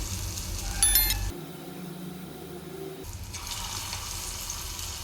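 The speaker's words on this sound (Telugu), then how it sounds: "పిండి అనేది మంచిగా అందులో ఆయిల్లో ఈజీగా పడుతుంది" Corn vada batter with garlic and onion dropped into hot oil, giving a soft steady sizzle and bubbling frying hiss that swells after a brief lull.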